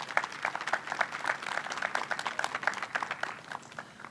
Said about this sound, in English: They'll give everybody a round of applause.